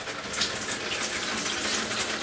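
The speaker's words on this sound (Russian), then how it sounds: "Ну, ты сейчас душ включаешь." Water sprays steadily from a newly assembled shower cabin, a close, continuous hiss of running water with no pauses.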